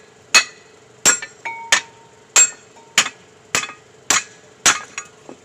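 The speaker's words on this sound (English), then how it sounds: "just knock it with a hammer and take it out" Eight sharp metallic hammer strikes knocking out brake caliper pins on a Dodge Ram front brake, at a steady pace, each ringing briefly, close by with no talking.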